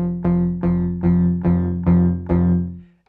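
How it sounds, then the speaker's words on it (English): A repeating synth tone with a deep sub-oscillator layer, struck about every 0.6 seconds; each hit rings with a short resonant delay echo, then fades out at the end. "this next knob here is going to be the sub oscillator"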